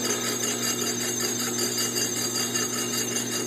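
Small lathe running at home in a dining room, giving a steady, fairly faint motor hum with a high, tonal whine, continuous and unchanging throughout, with no talk.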